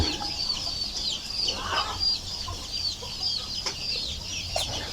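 Chickens clucking close by in a farm yard, a string of short repeated clucks and calls over a low background hum.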